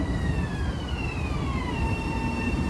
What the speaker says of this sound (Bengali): এটা ব্যাবিলনগামী ট্রেন।